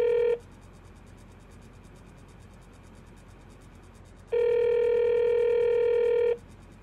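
Telephone tones in a radio drama of the play Sorry, Wrong Number: two steady, bright electronic tones, each lasting about two seconds and separated by a quiet pause, with no voices.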